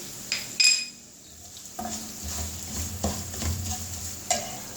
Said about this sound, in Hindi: अब मैं इसके अंदर 3-4 हरी मिर्चें मैंने बारीक काटी हैं, इसको मिला दूंगी